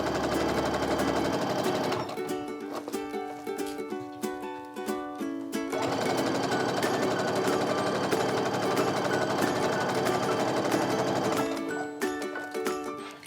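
A sewing machine runs in rapid mechanical bursts while stitching a quilt seam, its fast needle rattle starting and stopping with brief pauses, close and loud.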